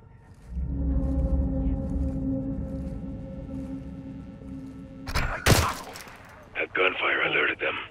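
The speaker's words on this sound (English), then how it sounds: "The gunfire alerted them." Sharp gunshots crack out in a short cluster after a steady low hum, with a burst of noisy activity following, in the video game Modern Warfare 2.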